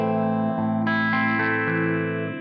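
Electric guitar chords played through a phaser effect pedal set to a subtle level, sustained and steady with a few chord changes, loud and alone without talk.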